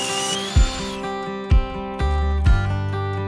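A saw fitted with a rip jig cuts thin strips of dark Wenge hardwood, giving a steady high-pitched motor whine with three or four heavy thumps at roughly one-second intervals.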